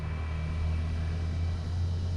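Road traffic in the small town of Tagbilaran on Bohol, Philippines, gives a steady, continuous low rumble of passing vehicles at moderate distance, with no speech over it.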